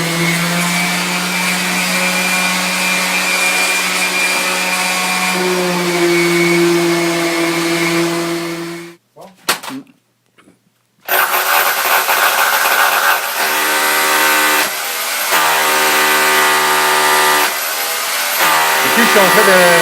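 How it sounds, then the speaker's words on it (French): A handheld sander with vacuum dust extraction works steadily during bathroom renovation, a loud continuous whine with a tonal hum, cutting out briefly midway before restarting with a rougher, buzzier tone. "On sable à l'aspirateur pour éviter qu'il y ait trop de poussière dans la pièce."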